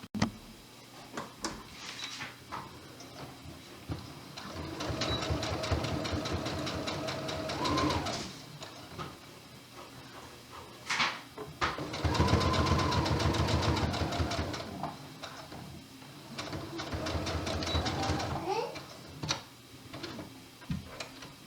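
A sewing machine stitches down both edges of a polo shirt placket in white thread, running in three steady bursts of a few seconds each with short pauses between, close and fairly loud with no talking.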